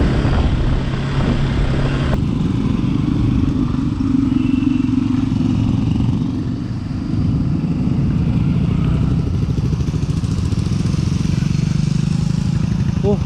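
A large group of about ninety motorcycles rides together on a forest road, a loud continuous engine rumble and drone filling the whole stretch, with wind noise and voices talking under it.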